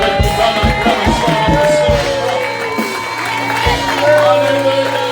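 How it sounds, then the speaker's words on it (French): A congregation at a church teaching meeting acclaims and cheers, with raised voices and rhythmic clapping thumps early on, then a continuing crowd murmur and calls. "Et avec nous, dans l'acclamation"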